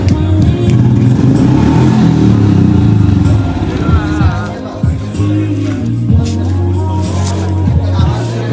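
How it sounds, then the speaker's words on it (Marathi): Several motorbikes rumble and rev together for a group weekend ride, a dense continuous engine drone with rising and falling throttle blips, loud and close, with voices faintly underneath. "आपल्या किती बाईक आले ते बघूया आपण आज"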